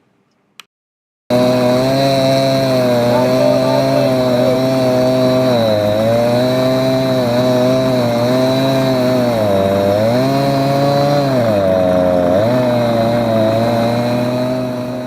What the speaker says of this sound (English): Mark and Curtis made short work of the log with their giant chainsaws